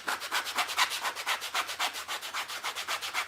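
Sandpaper rubbed back and forth over the damp, painted fabric fibers of a primitive snowman craft, a steady rhythmic rasp of about a dozen close strokes.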